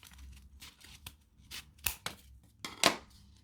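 Scissors snip along the edge of a paper craft in a quiet room, giving a few short, crisp cuts spaced apart, with the last two cuts the loudest.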